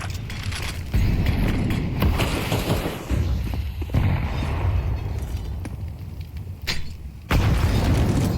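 Grenade blasts and gunfire during a Counter-Strike match on Inferno, several sharp booms and thuds spaced irregularly among mechanical clatter, fairly close, with no talk.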